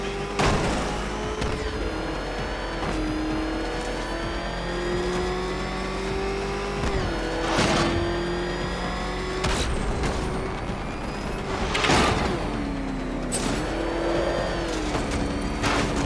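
A car engine roars and revs continuously in a Batman video game, pitch climbing and dropping through gear shifts with several sharp bursts of impact or squeal, loud and close with no talk.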